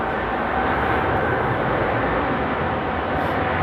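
An airplane taking off at Amsterdam Airport makes a steady, loud, broadband engine roar that fills the whole moment without letting up, with no voices over it.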